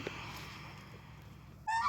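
Domestic ducks on a village farm quack briefly, with a short nasal call bursting out near the end over a quiet yard background.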